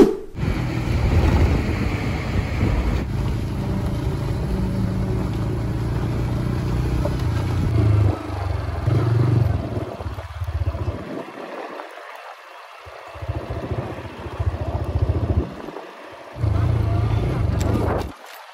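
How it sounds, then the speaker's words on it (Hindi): A TVS Raider 125cc motorcycle engine rumbles steadily while riding over potholes, with bumps and jolts from the rough, broken surface and brief drops in the engine noise. "काफ़ी सारे पॉट होल्स से मैं इस बाइक को लेकर के गया हूँ"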